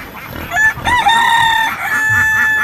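A rooster crows loudly nearby, a long strained cock-a-doodle-doo with a rising start and drawn-out ending, over faint background noise.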